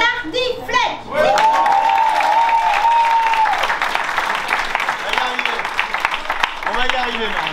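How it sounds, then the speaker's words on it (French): At a comedy theatre show, a dense, loud wave of audience applause and cheering swells and holds, with shouts and voices rising over the clapping throughout. "Un tonnerre d'applaudissements pour Sexe, Arnaque et Tardiflette."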